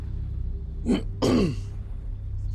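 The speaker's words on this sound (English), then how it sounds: "I keep clearing my throat" Two throat clearings close together, a short one followed by a longer, rougher one, over a low steady background hum.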